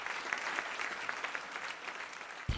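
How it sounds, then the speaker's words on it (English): Applause for competing teams at the Fuel Saving League 2015 quiz event, a steady, fairly faint wash of many hands clapping from an audience, lasting a couple of seconds before ending with a sudden thump. "Let's give our teams a round of applause, please."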